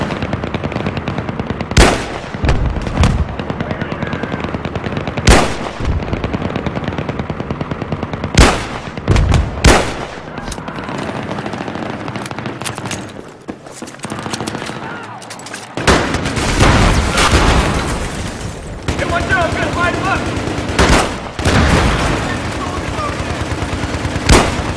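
Battlefield 3 combat with heavy machine gun fire, loud sustained bursts and sharp gunshots separated by brief lulls, with dense crackling volleys toward the end and faint voices in the mix.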